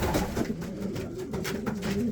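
Long-bred Adana pigeons coo inside a coop, with several low throaty calls repeating and overlapping nearby amid steady background rustle.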